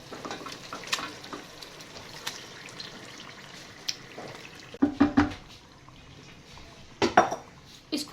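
Marinated mutton liver tipped into a pan of sautéed onions and tomatoes, giving a few sharp clatters and splashes against a steady low cooking background, with a scrape of a utensil near the end.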